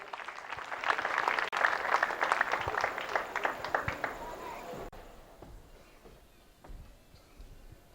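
Congregation at a church telethon welcomes two singers with loud, dense applause and cheering for about five seconds, then it thins into scattered claps and quieter room noise.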